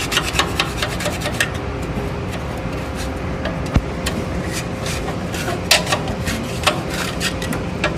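A putty knife scrapes debris along the edge of a Nieco broiler with a continuous, close, gritty rasping, broken by a few sharper metallic ticks.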